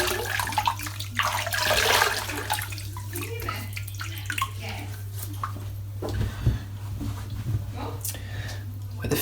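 Water runs from a tap into a sink while a face is wetted before shaving, splashing and trickling in bursts beneath a constant low hum, with someone talking over it.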